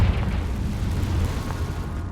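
The explosive Confringo spell blasts in the Hogwarts Legacy video game, heard as a dense, loud, rumbling roar that holds for about two seconds and slowly fades.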